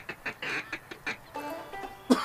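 Duck call from the Duck Dynasty video game on a hunt, a run of short sharp quacking blasts in quick rhythm, ending with a louder honk-like burst, heard alone without talk.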